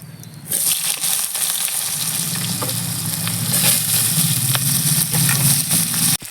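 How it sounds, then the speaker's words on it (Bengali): Chopped onions dropped into hot oil seasoned with black cumin and dried chillies, giving a loud, steady, close sizzle with scattered crackles and stirring scrapes, and no talking. "আর দিয়ে দেবো কুচনো পেঁয়াজ"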